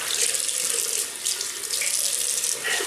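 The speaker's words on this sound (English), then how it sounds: "Right, just rinse that." Tap water runs steadily from a faucet into a sink to rinse a Merkur Vision double-edge safety razor, a continuous close splashing hiss with slight surges.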